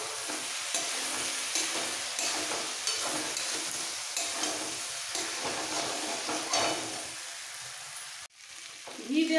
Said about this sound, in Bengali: ঘি দেওয়ার পর একটু মিক্স করে নিতে হবে।